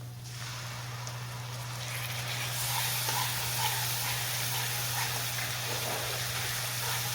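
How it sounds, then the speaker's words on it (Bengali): Ginger garlic paste frying with golden-browned onions in a pan while making rajma with jeera rice, a steady close sizzling hiss that swells louder partway through and holds, with no talking. "আদা রসুনটা কাঁচা ভাবটা কেটে গেছে, এটা ফ্রাই হয়ে গেছে।"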